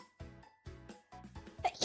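A close, sharp sneeze from a female streamer bursts out near the end, after a few short vocal sounds, loud and breathy.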